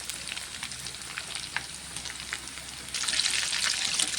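Chicken legs deep frying in oil give a continuous, close sizzle and crackle that grows louder toward the end, with no voices.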